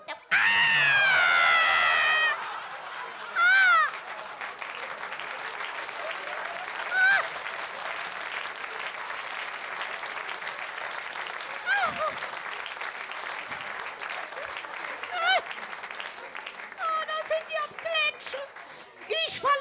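An audience at a Cologne Hänneschen puppet theatre show applauds in a long, loud sustained wave of clapping, with shrieks and cheers rising over it and children's voices audible.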